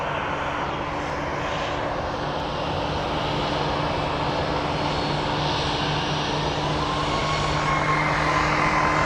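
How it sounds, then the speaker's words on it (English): Loud, steady engine roar of an airplane at Phoenix Sky Harbor airport, a continuous drone with a low hum running through all nine seconds, rough and slightly uneven in tone, building a little toward the end. "That airplane does not sound good at all."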